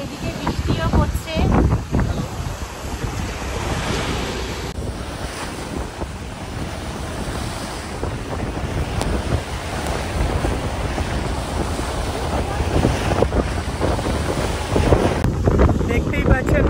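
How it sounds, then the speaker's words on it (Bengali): Big waves churn on the Ganges at Diamond Harbour on a rainy, windy day, a loud continuous wash of surf with heavy wind buffeting the microphone and a voice speaking over it. "কি বড় বড় ঢেউ উঠছে গঙ্গায়, তার সাথে সাথে ঝিরি ঝিরি বৃষ্টিও হচ্ছে।"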